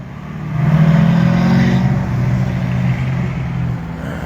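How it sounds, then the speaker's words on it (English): Yellow Corvette drives past on a street, its engine a steady low hum rising and holding close by for a few seconds, then easing off slightly. "Oh, look at this guy, he's driving on the curb. Yellow Corvette."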